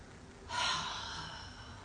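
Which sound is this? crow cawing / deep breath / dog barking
deep breath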